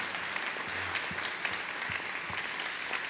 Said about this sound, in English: let's get a round of applause for Bradley Hart and Garrett Graff